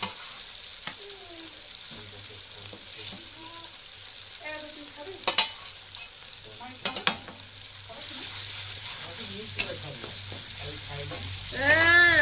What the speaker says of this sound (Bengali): মশলাটা এভাবে করে ভালো করে তেলে কষিয়ে নেব।